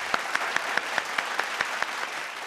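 A studio audience on a comedy talk show claps for farmers, about ten evenly spaced, crisp claps over a low crowd murmur.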